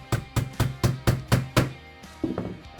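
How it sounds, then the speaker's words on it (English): Hammer tapping steel pins into an IWI X95 9mm rifle during a hand conversion: seven sharp, evenly spaced metallic taps, close and clear, followed by a softer shuffle of handling. "I get them started with a hammer."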